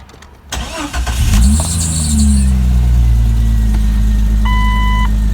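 A car engine with new copper spark plugs cold-starts: cranks briefly, catches and roars to life, then settles into a loud, steady idle close by, with a faint beep near the end.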